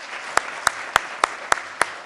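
Audience at an award event in India, six separate sharp claps spaced at an even, slow rhythm over low crowd murmur.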